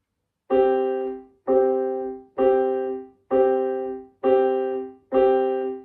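A single piano note, G, is played six times in a steady, unhurried rhythm, each strike ringing briefly before the next.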